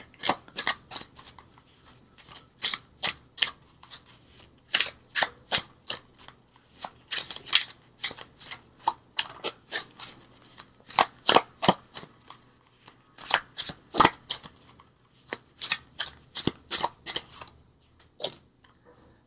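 A Mother Wisdom tarot deck is shuffled close by in quick riffling bursts. Crisp card snaps come in uneven rhythmic clusters with short gaps between them, and no talking is heard.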